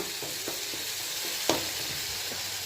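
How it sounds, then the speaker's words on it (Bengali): Fish cooks down into a thick, dry-style curry in a pan, a soft continuous sizzle running low in the background with a few light stirring clicks and one sharper tap. "এদিকে আমার মাছের রান্নাটা চলছে"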